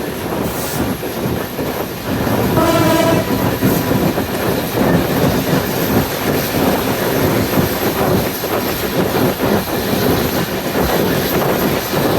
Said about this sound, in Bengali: আজকে 23-24 লোকোমোটিভ নিয়ে ঢাকাগামী নারায়ণগঞ্জ কমিউটার।